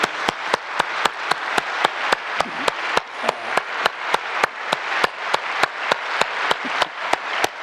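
Congregation in a church clapping in a steady, evenly spaced rhythm, with sharp distinct claps repeating continuously and close.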